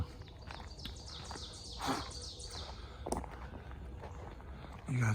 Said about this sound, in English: You guys hear all the birds?